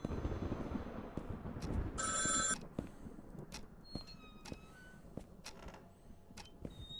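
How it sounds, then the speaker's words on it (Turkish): A telephone in a horror video game gives a single short burst of ringing, loud and brief, followed by quiet room tone with scattered clicks, thumps and sliding-door sounds. "Telefon çaldı."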